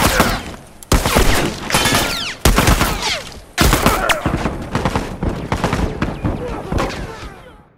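Rifle gunfire in the game The Last of Us, loud repeated shots in bursts with sharp reports and echoing tails over several seconds, along with voices shouting.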